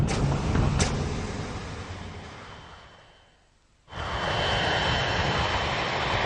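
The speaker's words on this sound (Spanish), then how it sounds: "Severamente dañado, con una estructura inestable y perdiendo altitud con solo 2 motores, el vuelo 811 inició su descenso final" A severely damaged heavy airliner descends on only two engines, its steady loud engine roar fading briefly to quiet before surging back to a sustained, near drone.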